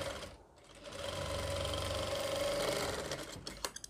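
Sewing machine stitching an Afghani salwar, a close, steady whirring run that builds and holds for a couple of seconds before slowing into a few clicks and knocks, without speech.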